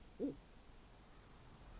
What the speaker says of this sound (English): We've got a pet owl and everything.